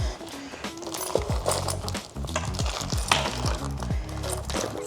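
Keys go into a crowded small slouchy denim shoulder bag with close, brief metallic clinks and rustling, over a steady tonal background.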